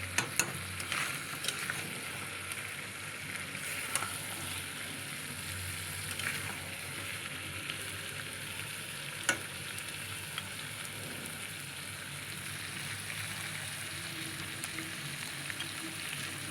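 Goat head and meat offcuts sizzle steadily in a pan while a metal spatula scrapes and clicks now and then against the metal as it is stirred.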